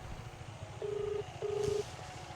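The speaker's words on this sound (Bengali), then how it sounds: "রিং হচ্ছে।" A phone call rings back through the handset: two long, even electronic tones with a short gap between them over a faint background hum.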